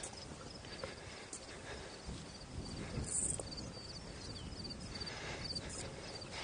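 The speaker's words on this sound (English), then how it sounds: "Got some nice cricket sounds." Crickets chirping outdoors at a wetland area, a faint, steady high-pitched trill running through quiet ambient background.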